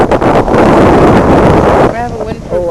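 Strong wind buffets the microphone outdoors at Arnold's Cove, Newfoundland, a loud broadband roar filling the first two seconds before easing as voices come through near the end.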